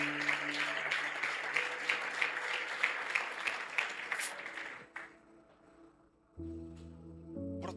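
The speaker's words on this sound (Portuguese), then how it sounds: "Aplauda ele no nome de Jesus." A church congregation applauds steadily for several seconds during a Sunday service, the clapping fading out as music comes in.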